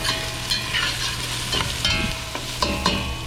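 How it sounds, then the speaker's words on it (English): Onions soften as they sauté in a hot pan, a close, steady sizzle broken by periodic scraping stirs and light clatters of a utensil against the pan. "now that we've softened up the onions"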